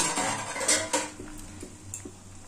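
A lid comes off a pot of boiled papaya, giving a metallic clank and rattle up close, followed by softer scattered taps of cookware and a low steady background.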